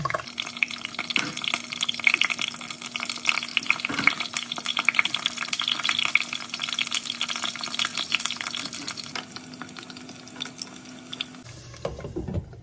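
Soaked eggplant slices fry in hot oil for an eggplant adobo dish, a steady crackling sizzle with dense spitting pops throughout, close and fairly quiet, no talking.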